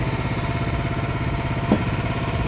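A BCS walk-behind tractor's small engine runs at a steady idle, close by and continuous, with a brief clank partway through.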